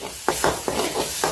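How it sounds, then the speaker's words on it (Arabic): Three eggs in hot oil in a pan are stirred quickly, giving a close, soft sizzle broken by about five scraping strokes in quick succession. "طاوة ساخنة بضيف عليها شوية زيت، 3 حبات بيض، تحريكة سريعة"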